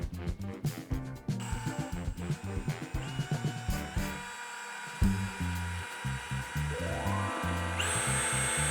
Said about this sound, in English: The drill bit is scraping layers of steel off of that I-beam